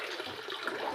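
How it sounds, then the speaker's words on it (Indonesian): Water runs steadily from an opened tap into a lobster tank, a continuous close rushing splash with no pauses and no talk. "Nah, keran ini dibuka."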